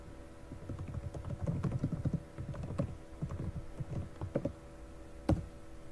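Rapid, fairly close typing on a computer keyboard entering a git commit command with a message, a steady run of clicks ending in one sharp, louder keystroke.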